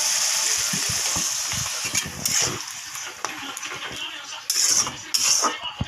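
Spice paste frying in a pan with a little water added for a fish-head curry, a steady close hiss and sizzle with occasional brief clinks and stirring, under faint background voices.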